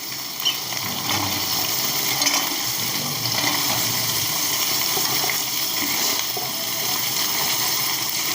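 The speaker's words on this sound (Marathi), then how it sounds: "आता याच्यात सगळ्या भाज्या टाकून घेणार आहे, वांगी, सगळ्या चिरलेल्या भाज्या टाकायच्या त्या, आणि चांगल्या अशा परतून घ्यायच्या।" Chopped vegetables and brinjal stir-frying in a pan over high heat, a loud continuous sizzle with a steady hiss and faint clinks, no talking.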